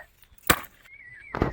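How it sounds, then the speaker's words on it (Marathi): A fresh yellow home-grown coconut in a village is chopped with two sharp, close strikes about a second apart, with a thin whistling tone between them. "आता हे नारळ कट करणार आहे"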